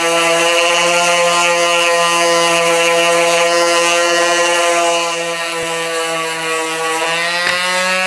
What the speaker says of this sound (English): I'm going to take a moment, sand down each piece on the inside